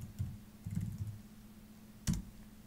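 A computer keyboard clicks softly as a search is typed, a few scattered keystrokes with short gaps and one sharper tap near the end, faint and close in a quiet room.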